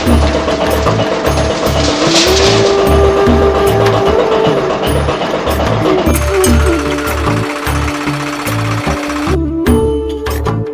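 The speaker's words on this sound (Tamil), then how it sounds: "கொட்டி முடித்த உடனே வண்டி ஸ்டார்ட் ஆகுது." A farm tractor with a maize seed planter attached runs close by, its engine chugging in a loud, steady, rapid knocking rhythm throughout, with no talk.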